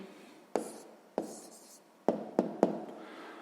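A pen or pencil writing out a math answer on paper, a few soft scratching strokes with sharper taps in between, close and quiet, with no talking.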